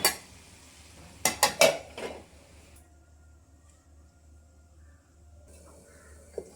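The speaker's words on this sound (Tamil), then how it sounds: "கிண்டி மறுபடியும் நம்ம மூடி போட்டு மூடி வச்சுக்கலாம்." Metal clatter from a spoon stirring vegetable masala in a cooking pan, then a lid set down over it: a few sharp close knocks and scrapes early on, one soft clink near the end, quiet kitchen background between.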